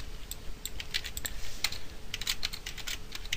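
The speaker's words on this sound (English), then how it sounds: "if I type a few lines of text here" Rapid clicking of keys on a computer keyboard while typing lines of text in Microsoft Word, steady and close, with irregular keystroke bursts and no voices.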